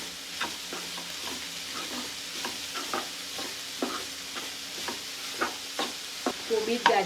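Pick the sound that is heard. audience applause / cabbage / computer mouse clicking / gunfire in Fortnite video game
cabbage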